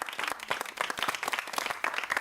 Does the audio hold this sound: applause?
yes